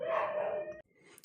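A pet dog, heard indoors, gives a drawn-out, tonal howl-like bark lasting under a second, then quiet with a faint yip at the end; no talking.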